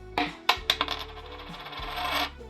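Gold coins drop and clatter in a quick burst of metallic clinks, followed by a longer shimmering jingle as they settle; close and clear with no voices.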